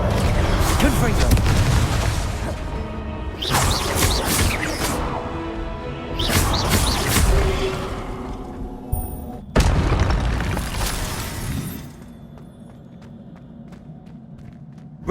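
Confringo blasting spells from the Hogwarts Legacy video game on PS4 Pro go off in four loud, booming explosions with whooshing bursts, followed by quieter background ambience.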